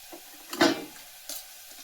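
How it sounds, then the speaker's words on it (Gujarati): Onion fries in a pan, two brief stirring bursts over a soft sizzle, close and fairly loud. "ડુંગળીને ઘડીક સડવા દે."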